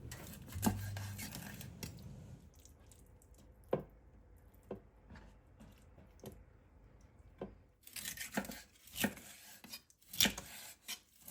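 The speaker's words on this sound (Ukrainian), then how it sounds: "нарізаємо нашу рибу шматками товщиною приблизно 3 см" Quiet, irregular knife cuts on a board as mackerel is cut into pieces about 3 cm thick, soft thuds and scraping, some louder chops toward the end.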